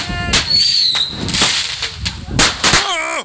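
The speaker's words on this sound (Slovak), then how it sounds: "Jedno vybuchlo na zemi." A firecracker goes off on the ground with sharp, loud cracks and bangs in quick bursts, mixed with squealing whistles and a falling whine near the end.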